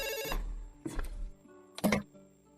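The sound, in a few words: telephone ringing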